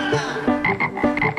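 Loud, close frog croaking, a few rough repeated calls in quick succession with nothing else heard.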